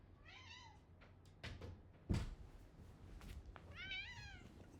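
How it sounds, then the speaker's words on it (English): A pet cat meows repeatedly indoors, two clear drawn-out calls at the start and end with a few shorter sounds and a sharp knock in between, fairly close and alone without talk. "She's meowing."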